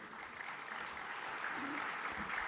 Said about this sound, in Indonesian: sekali lagi kita tepuk tangan buat Pak Nusron